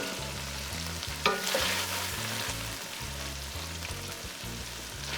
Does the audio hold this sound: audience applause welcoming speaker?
no